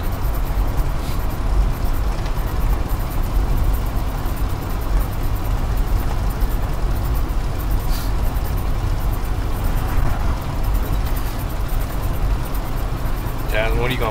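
A 1956 Cadillac Sedan DeVille drives along at around 35 to 45 mph, giving a steady, loud in-car engine and road rumble. People talk inside the car over the noise.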